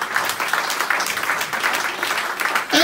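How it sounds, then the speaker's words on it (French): A church congregation claps steadily and enthusiastically, a dense continuous patter of applause that carries on throughout. "Applaudissez le Seigneur Jésus."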